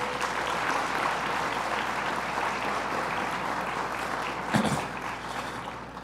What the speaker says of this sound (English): Please give these folks a round of applause